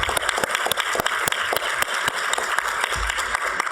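Applause from an audience at a plenary session, a sustained patter of many hands clapping at moderate volume, fairly even throughout with sharp individual claps standing out, and no talk over it.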